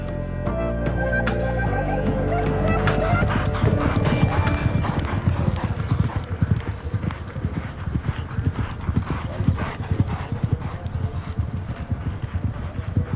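Racehorses' hooves clip-clop steadily at a quiet Shropshire training establishment, a dense close rhythm of hoofbeats running throughout with an occasional whinny, loud and continuous with faint voices underneath.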